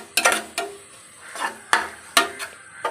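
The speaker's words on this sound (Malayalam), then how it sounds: "നല്ലപോലെ ഇളക്കി കൊടുക്കാം കേട്ടോ" A spoon scrapes and clatters against a pot while stirring a chicken biryani mixture, giving several separate loud knocks and scrapes with quiet gaps between them.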